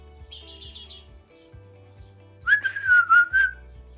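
Bright chirping bird calls: a short trill, then a louder run of four or five quick whistled chirps, close and clear against a low background hum.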